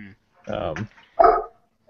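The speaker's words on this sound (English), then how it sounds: "Andrew's dog agrees with you, Dave" A dog barks twice at close range, the two gruff barks spaced apart with brief silence between them and no other sound competing.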